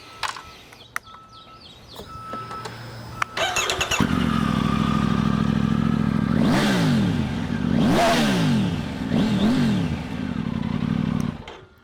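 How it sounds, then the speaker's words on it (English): A Triumph Tiger 900 fitted with an accessory exhaust starts after a few clicks. It settles into a loud idle, then takes several sharp revs that rise and fall before returning to idle. "I'll just start it up really quick for you guys so you can hear it and give it a couple revs."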